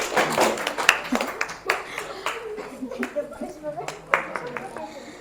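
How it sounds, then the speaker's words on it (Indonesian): A classroom group claps for a presenting team during a teaching session, a small scattering of uneven hand claps, fairly close and not very loud, with some talking in the room. "Beri tepuk tangan"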